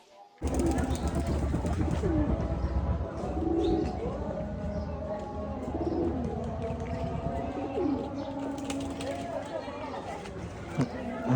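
Old bloodline pigeons cooing at close range, repeated low throaty coos and soft rolling calls layered over each other, with someone talking throughout.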